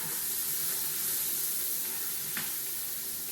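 Garlic sizzling in a hot pan after onions, cooking for a chourico, mussel and clam tomato sauce: a steady, close, bright frying hiss with a brief crackle partway through, no talking.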